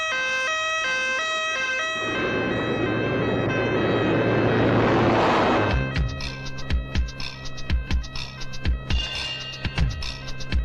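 A wailing emergency siren rises out of traffic noise, loud and close, followed by a series of sharp knocks and clatters.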